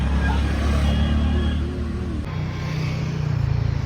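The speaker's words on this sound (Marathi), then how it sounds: "हे बघा ट्रॅफिक" Busy Sunday road traffic rumbles loudly and continuously nearby, with engines of passing cars and heavier vehicles droning without a break.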